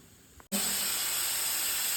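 A pressure cooker holding prawn biryani bursts into a loud, continuous hiss of escaping steam after a brief quiet moment, sustained without a break.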